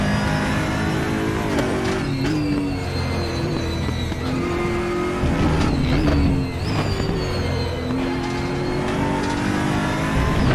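An Aquila CR1 race car engine screams in the RaceRoom racing game at Portimao circuit, loud and continuous, revving up and down through gear changes, with no talking over it.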